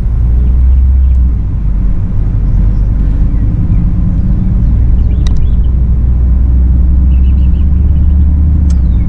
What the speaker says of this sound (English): I got a big old jacked up pickup truck back behind me